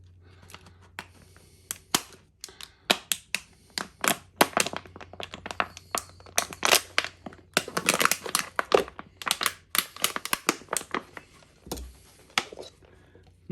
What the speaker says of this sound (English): I want to cut me a little weep hole in here.